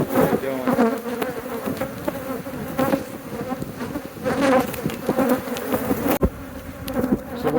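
Dense, continuous buzzing of honeybees swarming around an exposed beehive colony in a neighborhood, many insects droning close by at a steady loudness, with brief louder passes of individual bees near the microphone.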